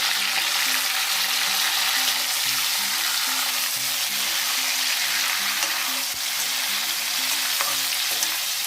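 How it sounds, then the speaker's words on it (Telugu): Jackfruit pieces deep fry in hot oil for a biryani, giving a loud, dense and continuous bubbling sizzle that stays steady throughout and is close by. No one speaks over it. "నూనె బాగా మరగగానే పనసకాయ ముక్కలు వేసేసుకొని ఫ్రై చేసుకోవాలి."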